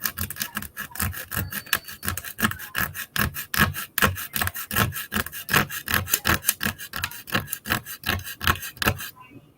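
Coarse sandpaper rubs back and forth against a model, a fast rhythmic rasping of close, even strokes that runs steadily for several seconds before stopping abruptly.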